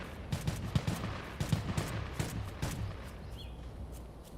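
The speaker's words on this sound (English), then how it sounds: "Oh, I'm hearing gunshots." A video game firefight crackles with bursts of rapid gunfire, several volleys of muffled, fairly distant shots over low background noise. The shots thin out toward the end.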